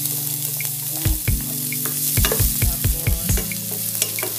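Onion frying in a pan for chicken adobo sizzles steadily while a utensil scrapes and stirs in a quick series of close, rhythmic knocks, with a brief spoken word.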